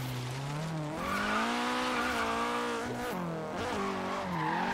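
A Nissan 240 drifting sideways on a street in Forza Horizon 3, its tires squealing in long wavering howls over a strained, revving engine, loud and continuous.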